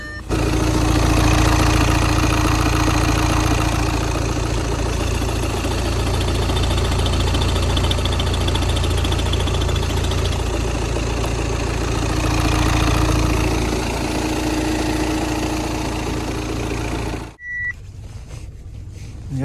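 A 2013 Audi A4 B8 S-Line with a 2.0 TDI diesel engine idles with a loud, steady rumble for about seventeen seconds, then falls quiet, leaving only faint background noise.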